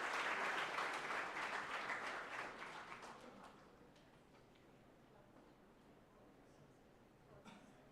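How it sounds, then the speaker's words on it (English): A conference audience at an expert session on AI applauds to welcome a speaker to the stage; the clapping is loud at first, then thins and fades out over about three seconds, leaving quiet room tone with a faint tap near the end. "round of applause."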